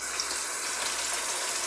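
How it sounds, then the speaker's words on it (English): Tap water runs steadily over food being rinsed for a General Tso's chicken sauce, a constant hiss of flowing water at moderate level with no pauses. "I'll get these rinsed up real quick"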